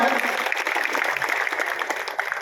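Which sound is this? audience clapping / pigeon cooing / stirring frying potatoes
audience clapping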